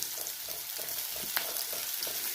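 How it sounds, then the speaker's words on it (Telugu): Chopped onions and garlic fry in a hot pan with a steady, close sizzle, broken by a few soft scrapes and clinks as they are stirred. "ఇప్పుడు అందులోని తరుక్కొని ఉల్లిపాయలు ఇది వేసుకున్నాను. ఈ 2 ముందు కొంచెం బాగా వేగాలండి."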